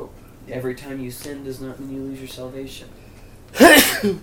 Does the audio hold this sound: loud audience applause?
no